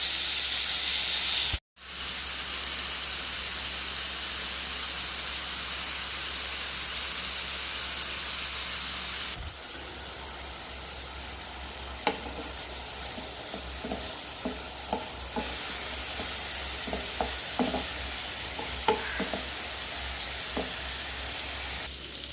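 Shrimp marinated in pepper, turmeric and vinegar fry in a pan for Kerala-style pickle with a loud, steady sizzle and a brief cut-out early on. Later, repeated clicks and scrapes of stirring join the hiss.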